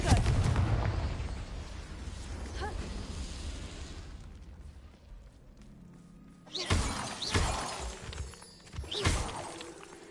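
A Confringo blasting spell explodes in Hogwarts Legacy with a loud, crackling, shattering burst that rumbles for several seconds. Two more sharp blasts follow after a quieter stretch.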